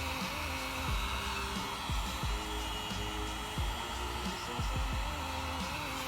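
Heat gun warming the glue seam of a headlight housing, giving a steady, close, continuous blowing hum with a faint whine, running alone without talk.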